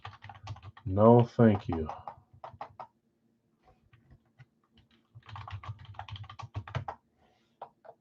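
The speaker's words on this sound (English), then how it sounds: "I'm going to start typing it" Computer keys are tapped in quick, light clusters of clicks with pauses between them, close by, while someone talks over part of the typing.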